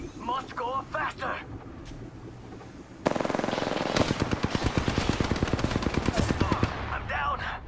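Sustained automatic gunfire from the video game Apex Legends hammers in fast, loud, evenly spaced bursts that last several seconds. A voice speaks briefly before and after the shooting.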